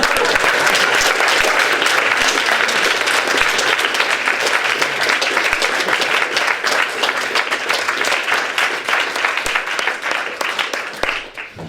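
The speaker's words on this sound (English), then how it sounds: "So, dear ladies and gentlemen, please welcome Professor Woollacott with a great applause." Sustained audience applause welcoming a professor onstage at a neuroscience and meditation talk, dense steady clapping from a large crowd that holds strong for about ten seconds before thinning out at the end.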